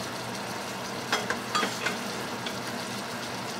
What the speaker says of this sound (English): I'm going to let this sit on here at medium heat and just let it cook